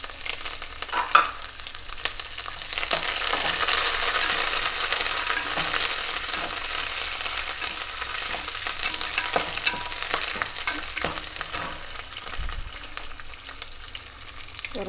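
Curry leaves crackle and fry in hot oil for Andhra-style lemon rice, a loud, dense, continuous sizzle with occasional stirring clicks, close by and with no talk.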